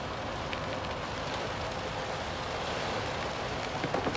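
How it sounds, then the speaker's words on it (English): Hail falls outside in April as a dense, continuous patter and hiss, steady and fairly even, with a few sharper ticks near the end. "It's hailing outside. We literally have balls of hail."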